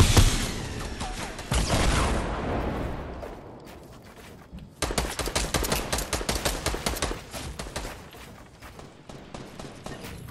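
Gunfire in the video game Fortnite: a loud opening burst, then a rapid stream of repeated shots that fades and later returns as a sustained fast volley, with no one talking over it.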